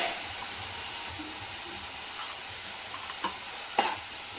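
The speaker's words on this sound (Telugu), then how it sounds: "చూడండి, ఇట్లా ఉల్లిగడ్డ పేస్ట్ ఇట్లా కొంచెం మగ్గిపోతుంది కదా" Onion paste frying and being stirred in a pan for egg pulusu, a steady soft sizzle with a few faint scrapes of the spoon near the end, no talking.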